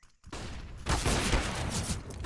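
Pistol gunfire in a CS:GO pro match on the Ancient map, a dense burst of rapid overlapping shots after a brief near-silent gap, loud and close, continuing steadily to the end.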